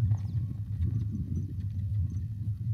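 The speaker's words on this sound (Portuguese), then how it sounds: "o cavalo trabalhando de rédea fechada, rédea solta, ficando no círculo que eu quero" Hooves of a young Criollo horse in early bridle training, working steadily in a circle, making a continuous muffled thudding and clopping at close range with no talk over it.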